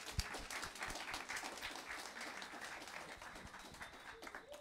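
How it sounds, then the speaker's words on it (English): An audience gives a round of applause after a presentation by a shark expert, with steady scattered clapping from a crowd at moderate distance that slowly tapers off. "Another round of applause, ladies and gentlemen."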